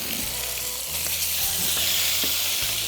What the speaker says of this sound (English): And I'm dropping those into a cast iron skillet. It's got about 2 tablespoons of olive oil.